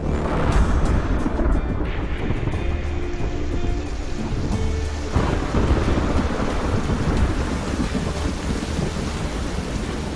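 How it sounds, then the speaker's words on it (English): Monsoon rain pours down steadily over tropical Indonesian islands while thunder rumbles through the dense, continuous downpour, with no voices. "The monsoon rains signal an end to the dry season."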